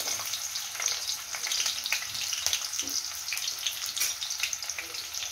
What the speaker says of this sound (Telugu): ఆయిల్ అయితే వేడెక్కేసింది. దీంట్లో నేను ఇప్పుడు ఆనియన్స్ వేసేస్తుండా.